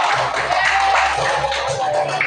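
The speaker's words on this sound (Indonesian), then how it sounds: "Beri tepuk tangan untuk kelompok 3." Classroom applause for a student presentation group, a steady dense patter of many hands clapping that fills the whole stretch at close range, with faint murmuring underneath.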